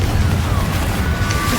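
Confringo fire spell explosion in Hogwarts Legacy combat, a loud dense booming rumble filling the short moment with no clear onset or fade.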